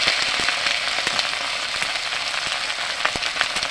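Ginger-garlic paste and turmeric powder sizzling in hot oil for a kachkola kofta: a loud, dense, continuous crackling hiss, scattered with sharp spits and pops.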